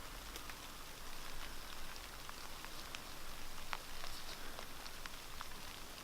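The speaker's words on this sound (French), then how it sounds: "Il n'y a que la pluie." Steady rain falls through a forest, a dense constant patter with scattered sharper drops striking leaves and surfaces, moderately close, with no voices.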